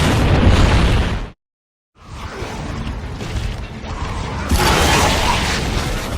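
Grenade blasts in the video game Gears of War 2: loud, booming explosions with a rushing roar, a short silent gap, then another heavy burst that swells and rumbles on.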